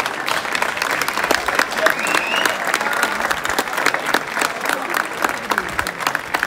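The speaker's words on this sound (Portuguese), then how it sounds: "Obrigado ao público pelos aplausos." An outdoor crowd at a folklore festival in Relva, Ponta Delgada, in the Azores, applauds in a sustained round of clapping, with sharp individual claps standing out and a faint voice or whistle rising briefly in the middle.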